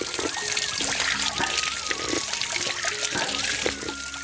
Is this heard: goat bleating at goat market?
no